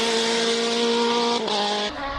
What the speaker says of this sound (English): Byron Mitchell as he comes through to the checkered flag, crosses the traps with that 2-litre